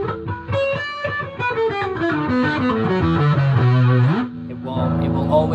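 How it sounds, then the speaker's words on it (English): Electric guitar through an analog distortion effect switched on by an envelope follower, played as a continuous run of sustained, buzzing notes stepping downward, loud and gritty, briefly dipping before resuming. "will always activate the distortion"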